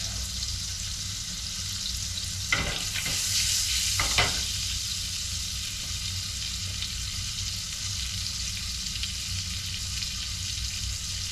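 African pompano fillet sizzling steadily in a hot pan on a gas stove, a continuous close frying hiss with a few brief louder crackles partway through, no talking.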